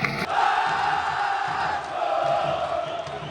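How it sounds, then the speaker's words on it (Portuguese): Vasco fans singing together in a stadium during a 2006 Brasileiro match against Palmeiras, a sustained, roaring crowd chant that fills the space evenly and holds steady. "Como nos velhos tempos, os vascaínos cantam."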